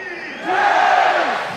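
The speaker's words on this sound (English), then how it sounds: "Crowds on both sides raucously chant their support." Crowds on both sides of the India–Pakistan border crossing raucously chant during the nightly guard ceremony, a loud massed roar of voices that swells after a brief moment and holds steady.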